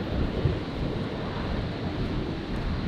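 A Virgin jet airliner rotating on takeoff from runway 01 right at Brisbane Airport, a steady broad roar heard from a distance, rumbling and wind-blown with no distinct peaks.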